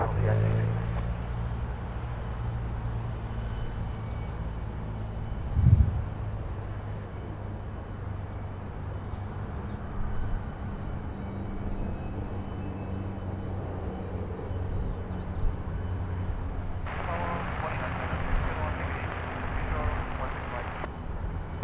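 A Velocity 816 airliner taking off from runway 16 right at Sydney Airport, a steady distant engine roar running under ongoing talk and air traffic control radio.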